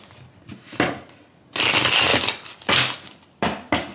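A deck of tarot cards being shuffled up close, several bursts of riffling and rustling separated by short pauses, with a longer shuffle in the middle and no voices.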